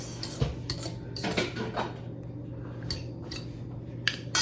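Cutlery clinks and scrapes against a bowl while eggs are whisked, a quick irregular series of close metallic taps and rattles.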